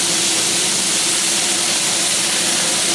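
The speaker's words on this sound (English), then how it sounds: "Now you can hear the sizzling." Pork cubes sizzle steadily in a hot pan, a continuous bright frying hiss with a faint low rumble beneath, close and even with no talking.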